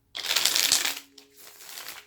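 Tarot cards shuffled by hand in a quick riffling burst, a pause, then a softer second round of shuffling, close and alone without talk.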